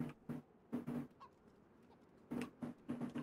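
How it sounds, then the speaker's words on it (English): A chicken in the DayZ video game clucks in short, evenly spaced bursts, quiet and somewhat distant, with a brief lull in the middle. "I hear a chicken."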